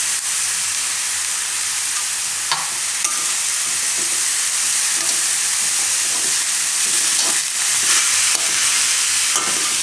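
Ginger sizzles in hot oil for green onion lotiyu, a loud steady hiss with occasional spatters and crackles and no voices.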